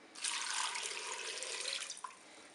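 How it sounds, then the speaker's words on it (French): Water poured into the inner pot of a Cookeo multicooker for cooking potatoes, a steady close splashing stream lasting about two seconds and ending with a final drip, no talking. "Je vais maintenant verser l'eau."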